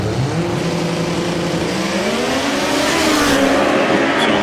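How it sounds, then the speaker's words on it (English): Drag racing cars roar at an NHRA competition eliminator event in Dallas, a 316 cubic inch small block Chevrolet and a 251 cubic inch 4-cylinder Ford, with a loud, steady engine drone and rising pitch as they run. "Matt's got a 316 cubic inch small block Chevrolet and a clutch pedal in that thing. A 251 cubic inch 4-cylinder Ford."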